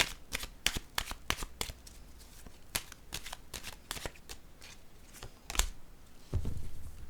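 A deck of cards shuffled close by in a run of crisp, snappy riffles and flicks, followed by softer slaps as cards are placed down on a surface, with a low thump near the end.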